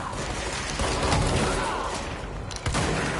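Sniper gunfire in the video game Control, a dense barrage of overlapping shots and booms filling the scene, with a couple of sharper cracks near the end, loud and continuous without talk.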